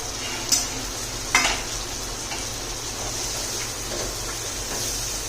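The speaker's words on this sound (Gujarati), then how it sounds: "આવું થઈ જાય, થોડું આવું સંકળાઈ જાય એટલે આપણે ટમેટું એડ કરશું." Chopped tomato goes into a frying pan with small-cut onion as a burrito bowl base is made, giving a steady sizzle with two sharp utensil clinks near the start and soft stirring scrapes after.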